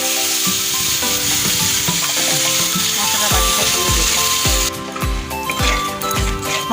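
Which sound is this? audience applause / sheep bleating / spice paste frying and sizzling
spice paste frying and sizzling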